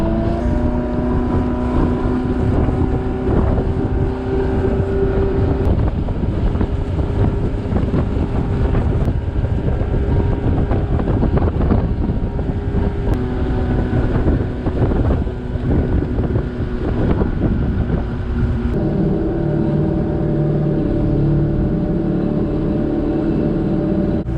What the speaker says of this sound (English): Wow, it is so windy.